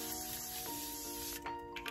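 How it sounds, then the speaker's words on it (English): A cosmetic setting spray is misted during a makeup routine, giving a steady hiss that runs through the whole stretch over a faint background hum, with a couple of short extra bursts near the end. "I need to spray again."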